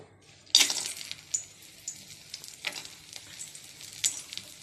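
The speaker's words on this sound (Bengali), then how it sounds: "বড়িটা আগে ভেজে নেব।" Sun-dried bori lentil dumplings hit hot oil in a pan with a sharp sizzle, followed by softer crackling and occasional spikes as they fry, close and fairly quiet.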